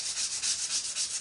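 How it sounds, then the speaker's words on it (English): Very fine sandpaper lightly rubs across wood in short, even back-and-forth strokes, a close, soft hiss repeating in a steady rhythm. "we are going to give this a light sanding, all of it, because we're going to chalk on all of it"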